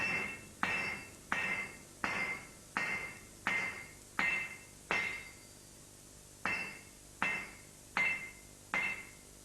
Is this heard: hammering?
yes